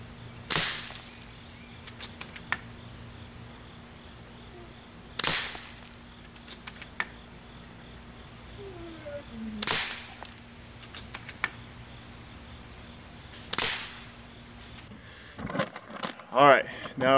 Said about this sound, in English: the first shot's going to be at 35 yards